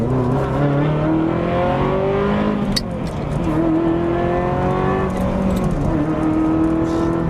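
A Ferrari F355 with a 3.5-litre naturally aspirated V8 revs up loud and close, its harmonic howl climbing in pitch, dipping briefly at a gear change, then rising again steadily.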